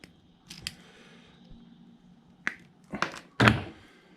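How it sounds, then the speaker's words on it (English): Cutters snipping the electrical plug off an ARB air compressor's power wire, a few close, sharp crunching snips clustered near the end after quieter handling noises, with no talking. "Just going to cut this plug off."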